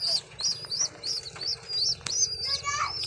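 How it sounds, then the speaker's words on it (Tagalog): Several pigeons heard up close, soft repeated cooing and chirpy calls in a steady rhythm, with a brief flutter or knock partway through and a low background rumble. "Yan mga kalapatids."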